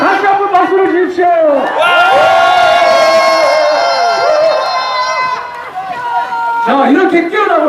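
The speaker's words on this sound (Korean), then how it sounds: "자, 다시 한번 박수를 주십시오" Large outdoor crowd at a Pohang Yeongildae rally, loud sustained cheering and shouting with whoops swelling through the middle and carrying on throughout, voices blended into a dense roar.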